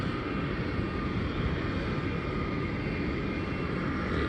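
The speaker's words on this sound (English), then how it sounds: "it is quite a small plane going to Canberra" Small passenger plane taking off for Canberra, a steady broadband engine roar heard from a distance, continuous and fairly faint, with no talk over it.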